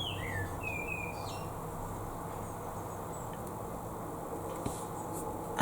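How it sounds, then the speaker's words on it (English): A bird chirps a few quick, high calls near the start, faint and distant over a steady outdoor background hum. "now there's a bird out there singing"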